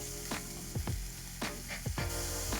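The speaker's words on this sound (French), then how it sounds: "Ce que je vais juste faire en amont, c'est cuire quelques petites girolles." Small chanterelle mushrooms frying in a pan for a brunch dish, a steady close sizzle with several sharp stirring or spatula scrapes at irregular intervals.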